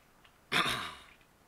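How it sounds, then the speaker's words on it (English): A single close cough or throat-clearing burst from one person, about half a second long, sharp at the start and then trailing off, with quiet before and after. "Sorry for coughing"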